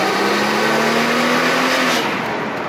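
A supercharged V6 car engine revs loud and close, a sustained rising whine that climbs over about two seconds before easing off, heard alone.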